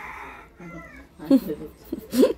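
A hungry cat meows several times up close, with short rising cries, while people talk around it.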